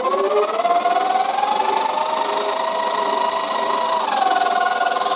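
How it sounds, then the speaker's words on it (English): A Vevor 8x14 benchtop lathe spins with an overly tight, noisy drive belt, giving a steady whining motor tone with a shifting pitch over a constant loud mechanical hum. "The belt's making a good amount of noise, or a lot more than usual."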